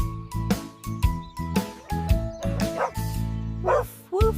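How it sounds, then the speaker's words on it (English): A dog barks in a quick repeated rhythm of short, yipping woofs over a bright, steady musical backing from a children's farm-animal song. "Woof, woof, says the dog"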